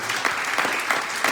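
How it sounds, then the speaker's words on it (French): Applause from a conference audience on AIDS prevention in Essaouira, a steady warm clapping sustained for over a second with a few louder swells, no talk over it. "mon bras droit, Madame Habiba Bigdad, je vous demande vraiment d'applaudir chaleureusement."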